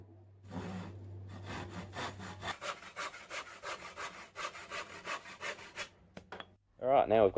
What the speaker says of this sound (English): Just going to cut that down to 500mm because I made the other one 500mm